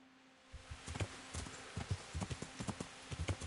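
Horse hooves clip-clopping in the medieval video game Kingdom Come Deliverance, a steady walking rhythm of close hoof thuds that starts after a brief quiet moment and continues evenly, with no talking.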